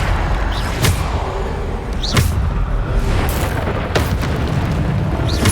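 Loud booming blasts from Bombarda spells burst several times at irregular intervals during a Hogwarts Legacy duel, over a continuous rumbling wash of magical combat effects with no talking.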